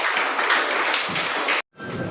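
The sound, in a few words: applause by the municipal council to pass a resolution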